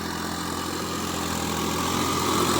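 Swaraj 744 4WD tractor with a 72-blade rotavator attached, its engine running steadily and loudly up close, a continuous low throbbing drone that builds slightly toward the end, with no voices.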